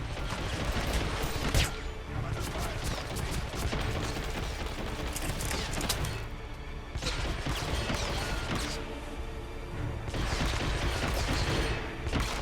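Enemy gunfire in the video game Hitman Absolution: loud, dense volleys of shots and impacts come in repeated waves, with short lulls between the bursts and no talking.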